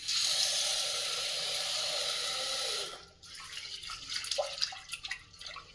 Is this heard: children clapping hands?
no